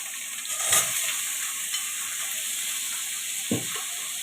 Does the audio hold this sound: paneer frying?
yes